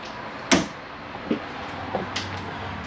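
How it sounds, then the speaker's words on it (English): A soft-close cabinet door in a 2024 Keystone Cougar travel trailer closes with a soft thud, followed by a few lighter clicks and knocks nearby as it settles shut. "Nice soft closed door latches."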